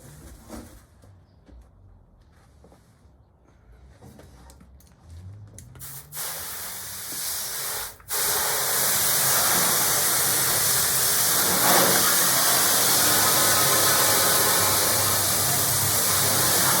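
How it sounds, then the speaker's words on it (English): After a few quiet seconds of clunks, a garden hose opens up at about six seconds and rises into a loud, steady spray hissing into the rusty trunk of a 1967 Dodge Dart GT, continuing unbroken to the end. "Hit it with the hose."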